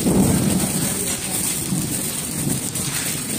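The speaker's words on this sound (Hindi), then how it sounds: "यह देखो बारिश तूफान भी बड़ा है," Heavy rain pours down steadily in a thunderstorm, a dense, loud, continuous roar with a low rumble underneath and no voices.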